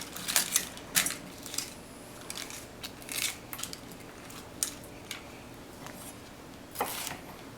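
A kitchen knife slices through a bell pepper on a cutting board, giving scattered, soft, close taps and crisp cuts at an irregular pace against a quiet room.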